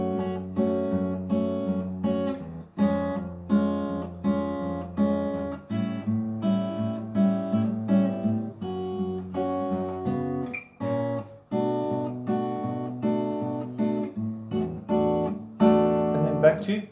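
A guitar plays a song's chorus with barre chords, strummed and picked in a steady flowing rhythm with a brief pause near the middle, clear and alone.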